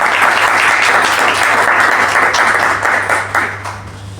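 An audience applauds an author at a book presentation in a library, a loud, dense burst of many hands clapping that holds steady and then thins toward the end, with no speech over it.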